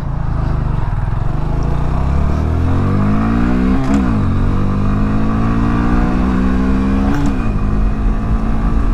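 A Honda Grom small motorcycle with an air box snorkel mod revs up through several rising gear pulls, its whine climbing in pitch and dropping at each shift, loud and close.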